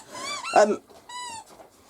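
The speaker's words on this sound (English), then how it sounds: "sorry folks, that's my puppy" A puppy lets out a couple of short, high whimpering whines in a room, with a brief louder yelp between them, close and moderately loud.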